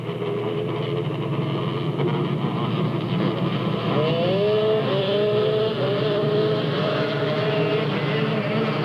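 Race cars circle Delta Speedway during a 1996 race, a dense continuous engine roar with rising and falling pitch as the pack passes, loud and unbroken throughout.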